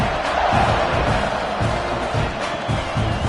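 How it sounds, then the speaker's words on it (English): A stadium crowd buzzes during an NCAA football game between Tennessee and Texas A&M, a steady broad roar with faint cheering, constant and fairly loud throughout. "this crowd is buzzing after that last score"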